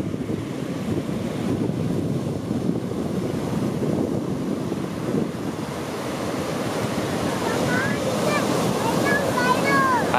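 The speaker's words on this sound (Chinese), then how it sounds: "海浪来了，对，" Ocean surf washing onto a small beach with a pool used for fishing: a steady, loud roar of waves mixed with wind buffeting the microphone, continuous throughout.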